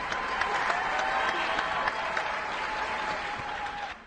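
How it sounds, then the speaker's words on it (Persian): An audience at a Persian couples game show claps steadily, a dense, even applause that holds for several seconds before slowly thinning toward the end. "ماشاءالله یه تشویق جانانه."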